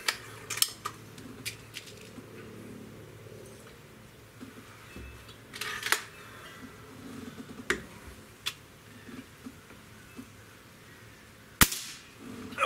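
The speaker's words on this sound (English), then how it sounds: "Alright, let's do 5 shots." A Beeman Bison dual-barrel air rifle fires .22 caliber pellets outdoors, a handful of sharp, close cracks spaced several seconds apart, with a faint, clicking, ticking handling noise and low background hum in between and no talking.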